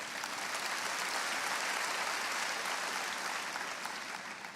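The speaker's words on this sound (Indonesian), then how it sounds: "Kayaknya tepuk tangan kurang seru deh." A church congregation applauds during a sermon, a dense, even wash of clapping that stays loud and continuous throughout before easing slightly at the very end.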